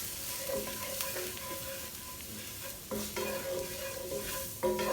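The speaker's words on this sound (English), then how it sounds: "Stir that around." A spoon stirs flour into chicken cacciatore in a skillet over a constant frying sizzle, with several scraping strokes and soft knocks against the pan, and no voices.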